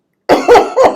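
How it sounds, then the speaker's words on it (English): A single person's cough, a quick run of three close, loud throaty bursts in about a second, heard on its own without speech. "I cough."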